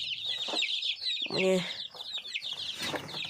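Hens moved into a new pen, one of them a broody hen about to hatch chicks, cluck and squawk close by in a busy, uneven burst of calls while a voice briefly speaks over them.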